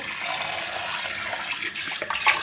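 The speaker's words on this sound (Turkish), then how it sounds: "Tencereyi şimdi suyumu dolduruyorum." Tap water runs into a cooking pot in a kitchen, a steady hissing splash that shifts slightly as the pot fills, heard alone without talk.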